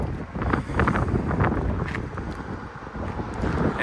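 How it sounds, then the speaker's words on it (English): Strong wind buffets the microphone outdoors beside a luxury shuttle bus on a very windy day, a continuous rumbling roar with gusty surges and no talking. "it's a very windy day today"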